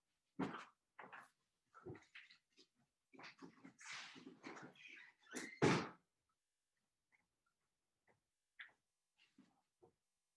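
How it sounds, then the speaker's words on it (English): Sharp, scattered barks from a dog indoors, irregular and fairly close, with a few thuds and clicks like a door being handled, then quieter small noises. "I'm gonna let my dumb dog out because she's barking at a squirrel"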